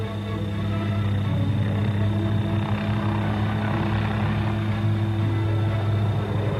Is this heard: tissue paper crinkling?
no